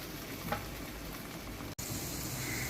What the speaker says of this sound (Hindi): चलिए भिंडियाँ मैं फ्राई कर लूँ